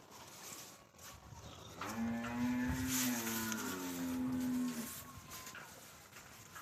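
Cattle at a busy livestock market near the India–Bangladesh border low loudly in one long, drawn-out moo, with fainter herd noise and crowd murmur around it.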